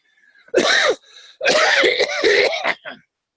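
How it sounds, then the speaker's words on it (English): A man, apparently nursing a cold, coughs in close, loud bursts: a short hacking cough, a brief pause, then a longer run of rough throaty coughs and throat clearing. "forgive me for the coughing"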